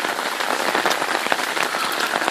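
Steady rain falls in a Punjab village, a dense, even hiss of drops hitting surfaces with scattered sharper spatters, close and constant throughout without any voices.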